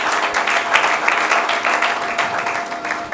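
A church congregation applauds during a worship service, with steady, dense clapping that fills the room throughout.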